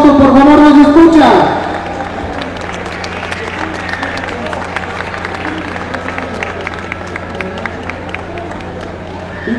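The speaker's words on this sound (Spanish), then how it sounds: "Nos despedimos con un fuerte aplauso, por favor, nos escucha." Applause from a crowd at a festival queen and princesses presentation in Atlatlahucan, a steady patter of clapping and crowd murmur following a loud voice at the start, continuing evenly throughout.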